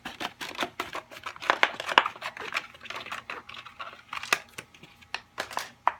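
Scissors slicing thin white HDPE plastic bucket into strips make a rapid series of sharp, crisp snips and crunchy cuts, close and fairly loud, in irregular bursts with brief pauses, no talking.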